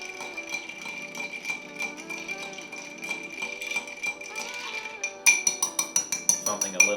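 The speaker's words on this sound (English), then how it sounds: "essentially the ice that you use to stir should be" Ice clinks against glass as a cocktail is stirred, with a quick series of bright, rhythmic taps near the end over background music.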